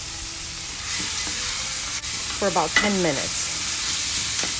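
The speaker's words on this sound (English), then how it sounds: "this is just gonna gently sizzle in here" Olive oil and soffritto vegetables gently sizzle in a pot for a Tuscan ribollita, a steady close hiss of frying with a brief stir. A person speaks over the sizzling partway through.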